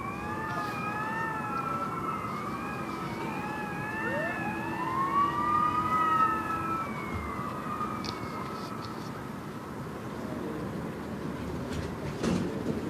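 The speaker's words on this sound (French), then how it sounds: "Une sirène à l'américaine." An American-style siren wails, rising and falling over a steady background rumble at a harness horse race, with a long sweeping tone cutting through the middle, moderately loud and continuous.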